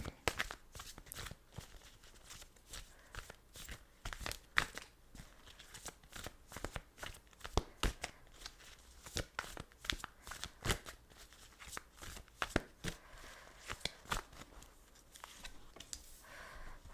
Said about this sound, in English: Just gonna lay out the cards.